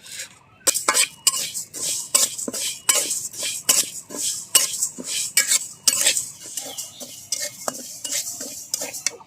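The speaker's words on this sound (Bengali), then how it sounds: "প্রথমে আমি মুগের ডাল ভেজে নেব" A spatula scrapes and clinks repeatedly against a metal pan as dry mung dal is stirred and toasted, with a faint background hiss.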